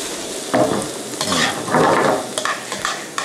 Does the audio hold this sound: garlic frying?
yes